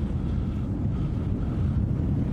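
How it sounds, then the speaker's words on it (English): Strong wind roars and buffets across a high mountain pass in Jotunheimen National Park, a loud, low, continuous rumble of gusts on the microphone with no talk. "The wind has picked up a lot,"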